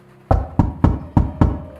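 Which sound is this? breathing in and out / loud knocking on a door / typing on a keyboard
loud knocking on a door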